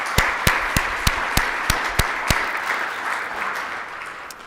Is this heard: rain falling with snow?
no